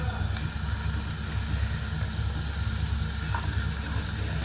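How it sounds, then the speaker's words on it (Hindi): Chopped onions fry in a spoonful of ghee in a pan, giving a steady, close, loud sizzle with faint clinks of stirring and no voices. "मैंने पैन में जो है वो 1 चम्मच घी डाल लिया। इसके अंदर हम ये प्याज डाल देंगे"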